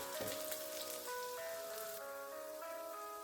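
Chopped garlic hitting hot oil with dried red chillies in a pan, a crackling, spitting sizzle with scattered pops alongside a steady tonal hum, moderately quiet and without speech.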